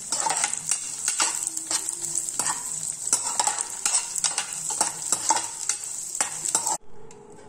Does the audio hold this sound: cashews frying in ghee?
yes